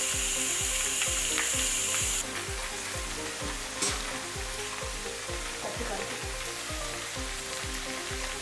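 Onion snack batter dropping into hot oil and frying, a dense, steady crackling sizzle with a rapid bubbling rhythm that stays close and loud throughout.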